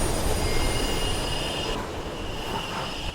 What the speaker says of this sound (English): Train coming behind you.